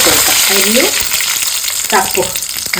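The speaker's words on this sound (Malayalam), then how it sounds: "അരി ഒന്ന് പൊരിയട്ടെ" Rice, mustard seeds, garlic and dried red chili fry in hot oil with a loud, close, continuous crackling sizzle and a few brief stirring scrapes.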